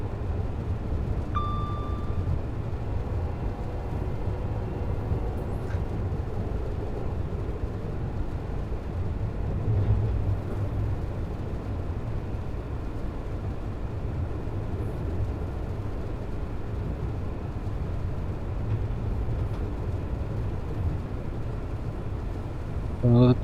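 Steady low rumble and rattle inside a train cab in Train Sim World 5 on the East Coast Main Line, a continuous droning throb with faint clanks, heard alone at moderate level throughout.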